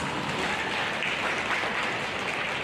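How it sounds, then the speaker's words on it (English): A school audience at a fourth-grade awards ceremony applauds steadily, a dense, even wash of many hands clapping at once that holds for a few seconds without pause. "Let's give them a round of applause."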